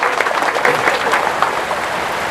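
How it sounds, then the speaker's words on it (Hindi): A village crowd applauds in a brisk, uneven patter of many hands, loud and close, with a faint voice or two mixed into the clapping. "इन लोगों के लिए जोरदार ताली बजाओ जिन्होंने ये काम किया"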